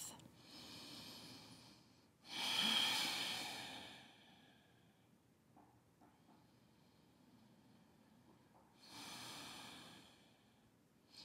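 A deep breath drawn and let out during a gentle yoga stretch, with two soft, airy breath sounds a few seconds apart in an otherwise quiet room.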